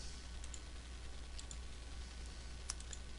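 Buttons pressed on a TI calculator, a few faint, sparse clicks over a quiet background hum, close by with no talk.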